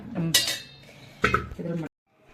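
Metal serving utensils clink and scrape against a vessel as mutton biryani is transferred into it, with a few sharp bright clatters over about two seconds, close and moderately loud, then silence.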